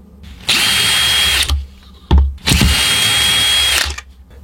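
A power screwdriver backs Torx T10 screws out of a battery pack in two sustained whirring bursts of about a second each, separated by a short clatter, close and loud.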